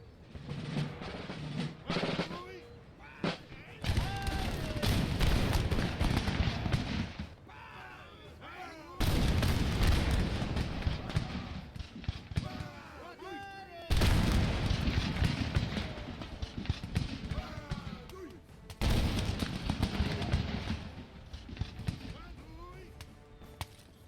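Massed musket volleys crack across a smoky battlefield in Empire: Total War, with the Poland-Lithuania army firing by rank. Several loud, dense bursts of gunfire roll out at intervals, with quieter gaps of distant battle noise between them.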